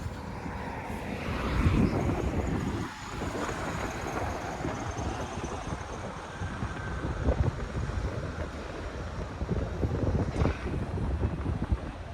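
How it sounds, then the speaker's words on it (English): An eastbound Line 5 Eglinton LRT train approaches along the surface line in Toronto, a broad, steady rumble and rolling noise heard from outdoors that holds fairly constant and swells slightly toward the end, with no talking. "here comes a eastbound train now."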